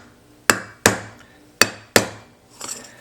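A hammer striking the edge of a raised copper vessel to flatten it, four sharp metallic blows in an uneven rhythm followed by a softer scrape, close and fairly loud.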